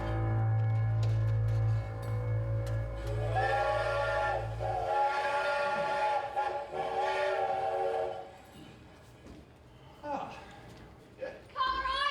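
A steam-train whistle sounds a long steady tone in a staged stage-play scene, followed by the rumble and chuffing of a train arriving, with voices talking over it.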